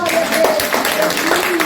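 A church congregation claps together during a prophetic conference service, loud and brief, with a voice speaking over the clapping.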